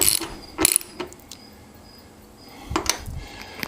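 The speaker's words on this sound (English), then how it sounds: "to tighten down these 2 bolts on the tank." A ratchet tightens the fuel tank bolts on an Excelsior Henderson Super X motorcycle, with quick clicking bursts near the start and again near the end, close by, and a quieter pause between.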